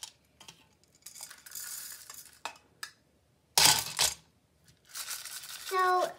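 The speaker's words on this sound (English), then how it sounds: "I'm putting the beads and the rice and 1 more scoop into it." Plastic beads and dry rice scooped and poured into a plastic Easter egg for a homemade baby shaker, giving bursts of rattling, pattering clatter in short pours separated by pauses, close and crisp.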